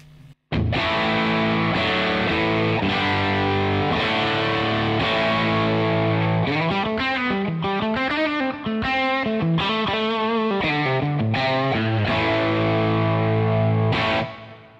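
A Two-Rock Classic Reverb Signature guitar amp with its FET gain engaged drives loud, sustained chords followed by busy single-note lines, continuous throughout without any speech.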